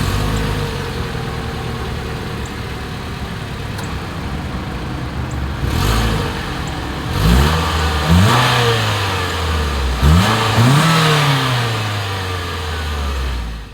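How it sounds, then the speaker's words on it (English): A 2023 Mitsubishi Outlander Sport exhaust idles steadily, then is revved in three sharp blips that rise and fall, close and loud, with no talking. "As always, here is that exhaust clip."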